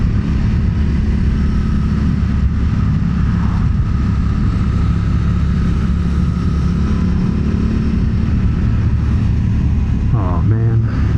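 A Suzuki V-Strom motorcycle rides along a curving stretch of road, its engine a steady loud drone under constant wind rush, close to the listener, with a voice talking over it throughout.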